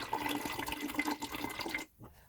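Rice water poured from a container into a bottle, a continuous splashing, gurgling stream that stops abruptly near the end, close and fairly loud with no talking.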